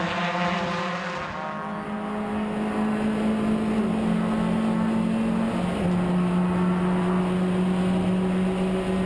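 Race cars in a Ford Fiesta championship race roar through a track complex, a loud sustained engine drone with shifting pitch as one car works hard through the corners, continuous and close without pauses.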